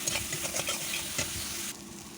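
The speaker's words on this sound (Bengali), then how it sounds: "এখন দিয়ে দেবো আমি আদা ও জিরে বাটা শিলপাটায় বাটা একেবারে পানি সমেত দিয়ে দিলাম" Stone-ground ginger and cumin paste with its water goes into spices frying in a pan, giving a lively crackling sizzle with a few stirring knocks. The sizzle drops abruptly near the end. Nobody speaks.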